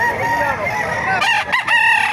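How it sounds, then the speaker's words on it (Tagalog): Roosters crow loudly and overlap one another while hens cluck underneath at a chicken market in Bocaue, Bulacan, a busy, crowded poultry scene with one crow standing out near the end. "napakarami pa manok dito sa Bukawi"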